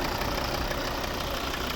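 A 2011 Volvo V60 with a 2.0 D3 diesel engine and automatic gearbox idles steadily, an even, close mechanical drone with fine diesel clatter and no voices over it.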